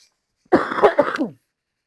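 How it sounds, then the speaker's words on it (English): A single short bout of harsh throat clearing and coughing, close and loud, followed by silence. "That just makes me cough straight away."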